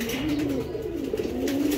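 A master pair of racing pigeons, male and female both raced, cooing close by in a steady, throaty rolling coo that carries on without pause.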